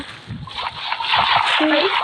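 Minecraft water splashing comes as a bright, sloshing burst that builds into a sustained watery spatter, while a voice talks over it in the background.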